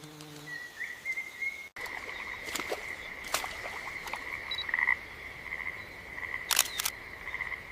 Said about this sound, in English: Poison dart frogs. Beautiful, but I'm not touching a single one of them.